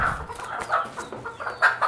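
Fancy chickens raised on a rooftop cluck and chatter close by in short, repeated calls over a brief stretch.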